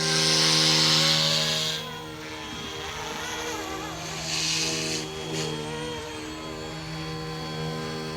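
A Wolfbush AW-911 Airwolf-style RC helicopter flies smoothly with a steady, tonal rotor-and-motor whine that swells and dips as it moves around nearby. A person talks briefly over it.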